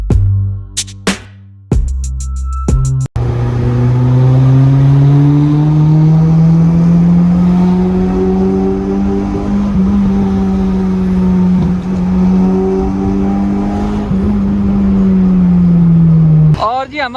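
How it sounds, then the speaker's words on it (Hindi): Car engine revving up and pulling away, a steady loud drone with rising pitch held close for most of the stretch, after a few brief knocks at the start. "तो जी गाड़ी हमारी गर्म हो गई है, तो भाई साहब इसको निकालते हैं बाहर"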